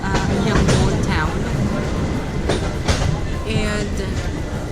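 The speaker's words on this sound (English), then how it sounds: "it's the best way for us to go around Yangon because we're inside a train." Yangon's circular train rolls along the rails on a rainy day, a loud continuous rumble with rattling carriages and periodic clacks and squeals, heard from inside the car.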